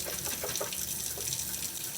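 Running tap water pours steadily over canned beans in a small can strainer, a continuous close splashing rush with slight fluttering texture.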